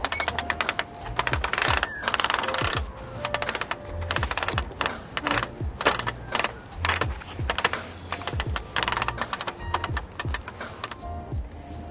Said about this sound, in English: And we just have to flip the awning ratchet